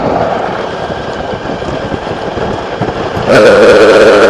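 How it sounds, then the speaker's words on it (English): A 90-degree V-twin scooter engine rides over gravel, a constant close engine drone mixed with rushing road and wind noise that grows slightly louder near the end. "This engine sounds good. From what I understand, it is a 90-degree V-twin."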